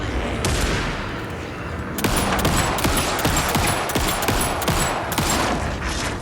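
Rapid gunfire in the survival horror game Alan Wake II, a sustained loud barrage of repeated shots with booming impacts, the volley intensifying after a brief lead-in.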